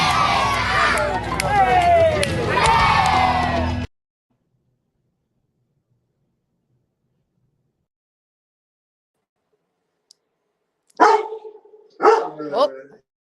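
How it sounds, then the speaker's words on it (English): A pet dog barks excitedly and wildly, loud and close, in a dense burst for a few seconds before going quiet; later a person talks briefly. "my dog is going wild."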